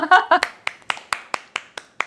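People on a television studio floor clap together, a few loud, overlapping claps settling into about ten evenly spaced, crisp handclaps, with a voice heard briefly at the start.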